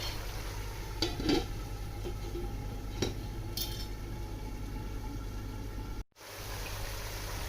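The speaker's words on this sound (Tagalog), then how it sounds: "Hayaan natin kumulo ng ating pork within 20 minutes hanggang sa lumambot" Pork for Bicol Express simmers in a covered pot, giving a quiet, steady bubbling hiss broken by a few faint clinks, with no voices.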